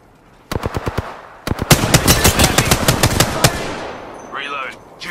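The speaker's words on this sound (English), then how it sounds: "Getting shot at." Rapid automatic gunfire in a video game, bursts of loud sharp shots in quick rhythm with brief pauses, then a softer electronic whir of shields recharging near the end.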